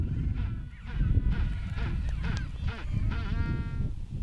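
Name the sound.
Magellanic penguins calling at nesting colony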